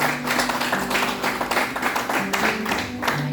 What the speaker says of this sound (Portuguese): aplaudindo ao Senhor Jesus